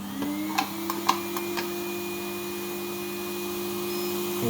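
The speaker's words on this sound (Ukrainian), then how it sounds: "Якщо включити пилосос, то буде разом з пилососом." The vacuum extractor of a MediPower professional manicure and pedicure nail drill hums steadily with a constant tone, joined by a few light clicks early on.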